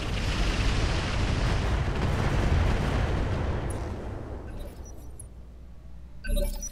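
Heavy turret gunfire in Roguetech Battletech, a loud continuous roar of explosive fire and rumbling that dominates for several seconds, then thins out into scattered impacts and a final burst.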